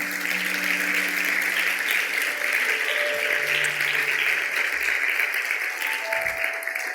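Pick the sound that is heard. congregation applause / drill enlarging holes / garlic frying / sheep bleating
congregation applause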